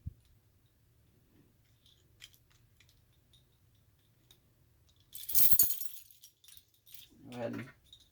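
A couple of metal cabinet keys for a Simplex 3001-9001 panel rattle and clink in two short bursts, close and fairly loud against a near-silent background.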